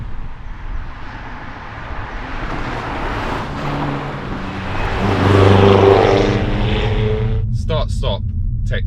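A BMW M440i drives on a road as its ZF automatic gearbox shifts up, producing a steady engine hum that swells and changes pitch between gears, with someone speaking over it.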